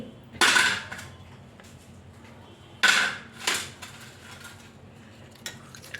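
Whole garam masala spices such as cinnamon and mace clatter into a heated pan for dry roasting, in two sharp rattling bursts a couple of seconds apart, then a few faint clicks over a quiet background.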